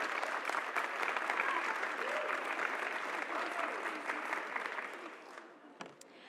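A crowd applauds panelists at a Global Citizen Now discussion on women's economic power, the dense, steady clapping filling the room before thinning and fading out near the end.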